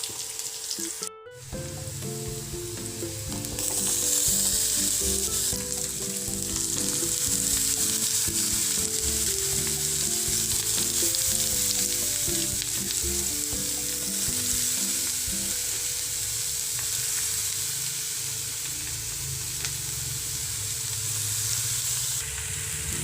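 Brinjal sizzles and crackles in a hot pan with browned shallots, a steady close frying hiss with scraping stirs, loudest once the pieces drop in and continuing throughout.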